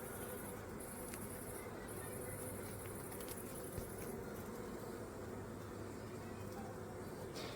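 Honeybees swarming at a hive at night, a faint, even drone of many buzzing wings that holds steady without pause throughout.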